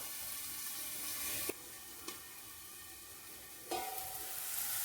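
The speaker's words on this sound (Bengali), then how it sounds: "ঢেকে দিয়ে এটাকে পেঁয়াজটা একটু সেদ্ধ হোক।" Sliced onions cook in oil over a lowered flame under a pan lid, giving a steady, even sizzling hiss broken by a few sharp clicks and knocks.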